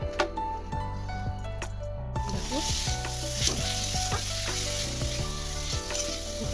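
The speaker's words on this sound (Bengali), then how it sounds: "কড়াইটা বসেছি তো কড়াইয়ের মধ্যে" Steady sizzling of a sweet filling cooking in a wok, with clinks and scraping of a utensil stirring over continuous background music.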